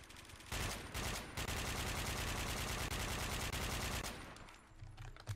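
Automatic weapon fire in the FPS video game Warmode: a dense, continuous burst of rapid gunshots that fills most of the clip, briefly broken once, then easing into scattered shots near the end.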